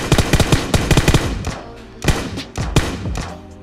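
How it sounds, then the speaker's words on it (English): Rapid automatic gunfire in the battle royale video game Battlegrounds, dense bursts of sharp shots at first, then a pause and a few more scattered volleys, loud and close. "there's someone actually shooting at me"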